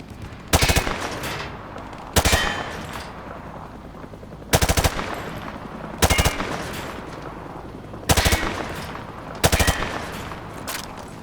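Rapid automatic gunfire from a Call of Duty Modern Warfare target-shooting drill, six loud, sharp bursts spaced roughly every one to two seconds against a quiet game backdrop, no talking.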